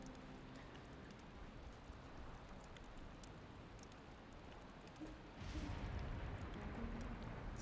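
Steady rain falling in the video game Valheim, a faint continuous hiss of drops on surfaces that swells slightly louder near the end, with no voices.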